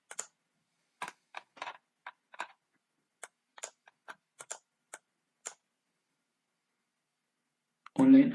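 Crisp, close keystrokes on a computer keyboard come in an irregular run of separate taps and short bursts over near silence as content is typed, then a voice speaks briefly at the end.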